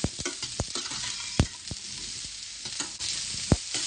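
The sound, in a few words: bottle gourd frying and being stirred in pan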